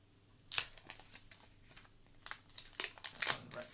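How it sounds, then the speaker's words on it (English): Crinkling and tearing of plastic wrap while a Huawei P30 Pro phone is unwrapped from its packaging, quiet and close with a few sharper rips. "Unwrap this thing."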